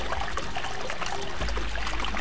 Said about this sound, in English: Now I can turn the water on.